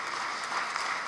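Audience applause at a New Year's concert in an archaeological museum in Agrigento, a short, even burst of clapping heard from the middle of the crowd.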